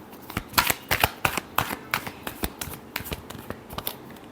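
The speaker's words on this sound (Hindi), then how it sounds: "Last shuffle." Tarot cards being shuffled by hand in a Libra horoscope reading, a brisk run of riffling flicks and slaps, close and fairly loud, with no talking.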